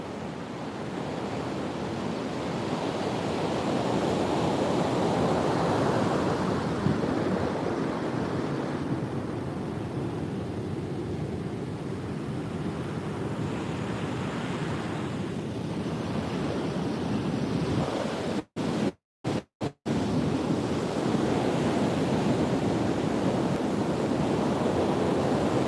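Ocean waves rolling onto a beach, a continuous loud broadband wash of surf with wind across the microphone and a few brief dropouts, no voices.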